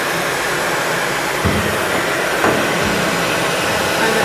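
Hair dryer blowing hot air onto heat shrink tubing, a loud steady whooshing hiss throughout with slight bumps as it is moved, no voices.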